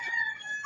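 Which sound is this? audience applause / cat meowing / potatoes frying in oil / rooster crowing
rooster crowing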